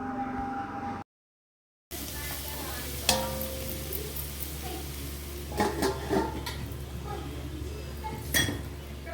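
Poha being stirred in a hot pan on a home stove, with a steady sizzle underneath, a scraping stir and a few clinks of the spoon against the pan, close and moderately loud.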